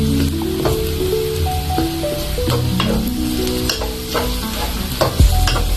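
Shrimp browning in garlic butter in a pan, a loud continuous sizzle close up, broken by frequent stirring scrapes and a small clatter near the end.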